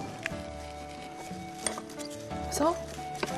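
Summer kimchi ingredients with sliced onions are stirred and tossed in a bowl, giving soft, close scraping and light clinks of utensil against the dish in short, uneven strokes.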